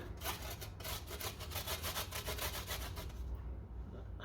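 Fresh ginger is grated in a garden kitchen with quick, rhythmic rasping strokes, close and steady at about four per second, then it stops.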